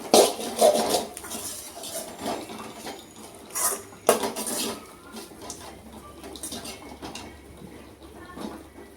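A spoon scrapes and clinks against a cooking pot as coconut rice with coriander is stirred in a home kitchen, the irregular metallic taps loud near the start and settling into softer background noise.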